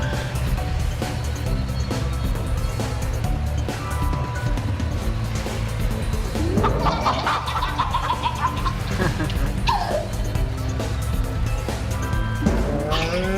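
In the racing scene of the video game That Dragon, Cancer, a cartoon chicken clucks a few bright, rising calls over constant game music and engine hum.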